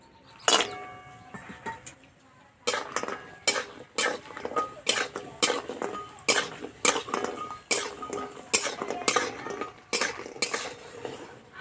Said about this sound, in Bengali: কলাই বড়ি নিয়েছি, ভেজে নেব।